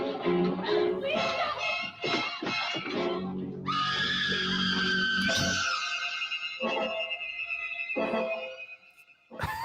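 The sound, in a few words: woman screaming in terror, film clip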